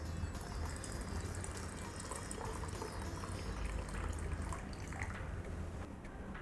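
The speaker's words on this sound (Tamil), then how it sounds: "இப்போ தண்ணி விட்டு விளாவிடலாம்." Water poured into a pot of boiling sathakuppai rasam, a continuous splashing gush mixed with bubbling, steady and close the whole time with no talking.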